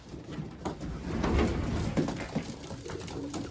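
Racing pigeons coo inside a loft fitted with a drop trap, soft throaty calls overlapping with rustling wings and light knocks nearby.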